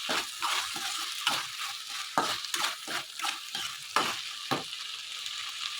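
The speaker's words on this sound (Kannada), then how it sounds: "ಉಪ್ಪು ಹಾಕಿ ಇನ್ನೊಂದು ಸಲ ಚೆನ್ನಾಗಿ ಮಿಕ್ಸ್ ಮಾಡ್ತಾಯಿದ್ದೀನಿ." A spatula stirs vegetable Maggi noodles with salt in a sizzling pan, producing rhythmic scraping strokes about twice a second over a soft frying hiss, with no voices.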